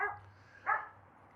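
Dog during basic obedience training outdoors gives two short, sharp barks, the second louder, close by with no talk.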